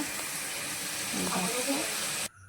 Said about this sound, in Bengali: পেঁয়াজটি ভাজার পর এই মাছগুলোকে আবার ভেজে নেওয়া হচ্ছে